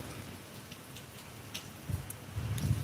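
Light rain falls outdoors in a soft, steady patter with a few sharper drops, and a gust of wind rises toward the end; the sound is faint and nobody speaks.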